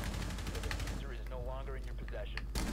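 Rapid automatic gunfire in Rainbow Six Siege, a dense stream of shots under a player's talking, with another burst at the end.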